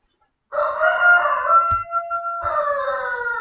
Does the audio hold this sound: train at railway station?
no